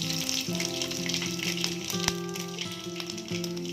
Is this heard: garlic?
yes